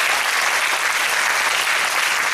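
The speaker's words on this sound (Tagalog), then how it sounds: "Napakahina naman ang palakpak kung para sa Diyos yan." Dense, sustained clapping from a church congregation, an even wash of many hands applauding at once that holds steady for a couple of seconds without pause.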